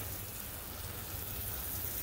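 Water sprays onto a dry, freshly amended garden bed before seed sowing, a steady close hiss like light rain falling evenly over soil for the whole stretch.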